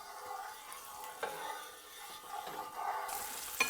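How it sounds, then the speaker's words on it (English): Chicken pieces for a Cajun chicken fricassee fry in a pan with a soft, continuous sizzle and occasional stirring clatter, fairly faint and close. "we're gonna fry this up for about 5 to 8 minutes on each side"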